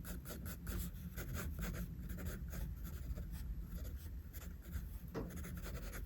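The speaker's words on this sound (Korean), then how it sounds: "아래 라인은 위에보다 연하게 그려줍니다" Pencil drawing the lower line of an eye on paper makes a steady, close scraping hiss, with short rhythmic strokes running continuously at low volume.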